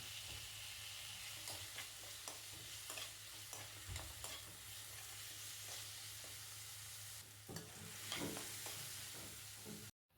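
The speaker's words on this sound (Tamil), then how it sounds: "இஞ்சி பூண்டு வதங்கினதுக்கப்புறம் தக்காளி சேர்த்து நல்லா வதக்கி விட்டுருங்க." Tomato stirred into onion, ginger and garlic frying in a pan, a steady close sizzle broken by regular scraping stirs, continuing for about ten seconds before cutting off abruptly, with no talking.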